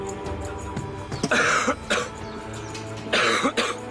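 Two bursts of harsh coughing, close and fairly loud, separated by a short pause, over a low steady background hum.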